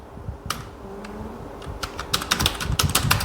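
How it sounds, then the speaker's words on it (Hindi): Keys clatter on a computer keyboard while entering a title into an Excel spreadsheet: a few sparse clicks, then a quickening burst of close, crisp keystrokes, with no talking. "यहाँ पे मैं टाइप करूंगा बैंक लोन डेटा"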